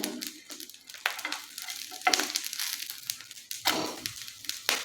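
A cucumber paratha crisping on a pan over medium gas, with a soft, uneven sizzle and crackle that swells and fades, interrupted by a few scraping or flipping noises, fairly quiet and without speech.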